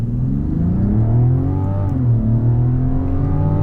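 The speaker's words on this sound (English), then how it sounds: "this accelerates in a more effortless manner than the Lexus or the Toyota" Mazda CX-90 mild hybrid SUV with an automatic transmission accelerating, a steady, loud engine drone with rising harmonics and a brief dip near the middle, heard alone without talk.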